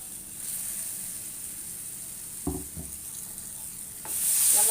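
Ground moong dal paste cooks in a pan for halwa, giving a soft steady sizzle broken by a couple of brief scraping stirs, fairly close, with no one speaking.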